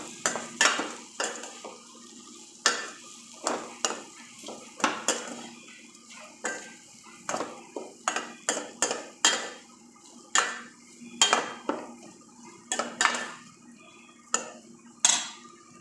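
Chopped ghevda beans are stirred in a pan, a spoon scraping and knocking against the metal in quick irregular strokes with a soft sizzle underneath, close and clear, with nobody speaking.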